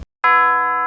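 A single synthetic doorbell chime rings out clearly after a brief silence, a bright sustained tone left to ring on alone.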